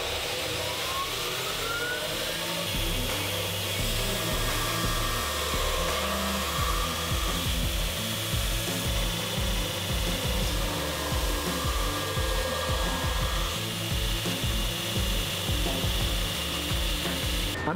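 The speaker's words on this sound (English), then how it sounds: "as I'm grinding, I have my hands close into my body." Belt grinder shaping the bevels of a recurve hunting knife, a steady rough abrasive rasp and hum running continuously with slight shifts in pitch as the blade is worked, close and loud, no speech.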